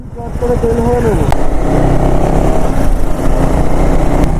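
KTM Adventure motorcycles on a group ride out of Kolkata produce a loud, steady engine roar that rises briefly at the start, then settles into a continuous close drone with rushing wind.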